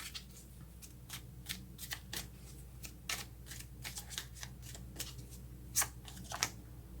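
A deck of tarot cards being shuffled by hand, a quick series of crisp riffling flicks repeating at an uneven rhythm, close and quiet, with no voices over it.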